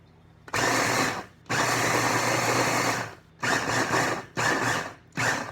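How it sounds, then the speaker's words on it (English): Kitchen blender whirring through homemade laundry detergent in short bursts: one brief pulse, a longer steady run, then three quick pulses separated by silence, close and fairly loud. "So I'm just going to try blending it a few more seconds."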